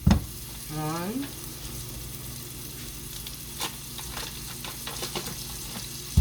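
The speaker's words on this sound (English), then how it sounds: "my onion and my garlic is still being sauteed down and cooked through" Butter melting while onion and garlic sauté in a pan for a crab boil: a soft, continuous sizzle runs throughout with a few light stir clicks. A brief voiced sound comes near the start, and a sharp knock lands at each end.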